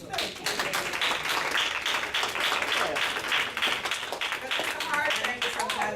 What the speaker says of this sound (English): I would appreciate you ladies if you could please give a round of applause to my handsome and anointed husband, Marquis